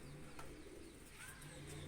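Pigeons in a loft of new nest boxes coo in low, repeated throaty calls, close and fairly soft, over a steady faint background hum.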